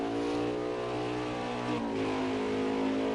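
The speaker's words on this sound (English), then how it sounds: "you can really hear him manipulating the gears right now, trying to keep it in low revs to save some fuel" A racing truck in a NARL Truck Series video game race revs at a steady, fairly low pitch, with the engine tone shifting slightly midway as the gears change.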